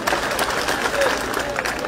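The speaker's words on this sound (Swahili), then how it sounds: "Makofi kwake tena." Audience applause for a speaker at a government political gathering: a dense, steady wash of clapping and crowd noise lasting about two seconds, with scattered voices mixed in.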